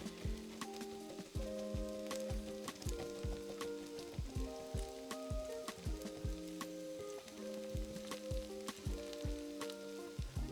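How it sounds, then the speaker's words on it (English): Shaped hash browns sizzle quietly in a pan with a steady fine crackle and scattered sharper pops, while soft tonal sounds run in the background. "when I'm cooking hash browns is just shape them up, like so."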